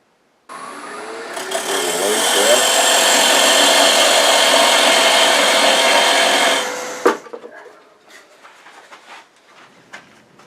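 A wood lathe turns a replacement clock finial, a loud, steady whirring rush of tool on spinning wood lasting about six seconds. It cuts off abruptly into quieter scraping and handling noises.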